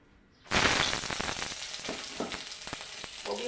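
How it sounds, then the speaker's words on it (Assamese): Cauliflower hitting hot oil in a blackened wok bursts into a loud, sudden sizzle after a moment of near silence. The hiss then holds steady with frequent crackles and spits. "তাৰপিছতে ফাৰ্ষ্ট এয়া কবি ভাজিম"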